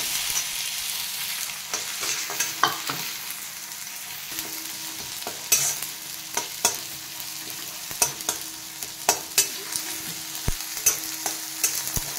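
Tomatoes and turmeric being stir-fried in a pan, a steady soft sizzle punctuated by irregular sharp scrapes and clicks of a spatula against the pan, close and without talk.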